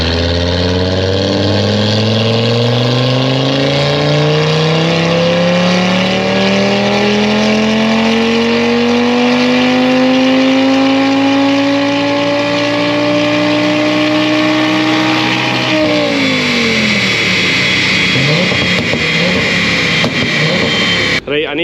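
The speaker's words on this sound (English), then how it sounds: "You can hear the TTRS." An Audi TT RS five-cylinder engine revs hard on dyno rollers, pitch climbing steadily under full load for about fifteen seconds before easing off into a lower, rough idle; loud and close throughout.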